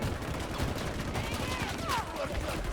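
Gunfire in the video game Battlefield 2042 forms a dense, continuous rattle of shots that fills the whole stretch at moderate volume.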